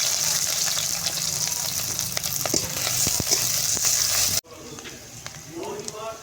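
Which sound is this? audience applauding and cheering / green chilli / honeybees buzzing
green chilli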